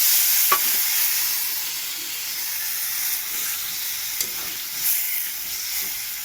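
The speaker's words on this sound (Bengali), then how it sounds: "মশলার জলটা দিয়ে দিলাম।" Spice paste for a curry sizzling and hissing steadily in a pan after water is poured in, a constant bubbling fry with a few faint clinks, close and alone without talk.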